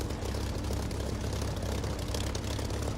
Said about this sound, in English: you hear the engine volume pick up a little bit